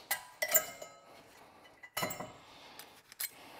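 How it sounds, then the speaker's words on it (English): A small screwdriver taps metal brake pad clips on an S14 240SX during a brake pad change, giving a few light, sharp clinks scattered across a quiet background. "Bust out the little screwdriver and give things a couple of little whacks."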